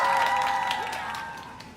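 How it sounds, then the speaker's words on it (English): An audience gives a round of applause for a guest at an evening event, a soft, even wash of clapping that slowly fades, with a faint tone running beneath it. "if we give Charlie a round of applause for being here tonight"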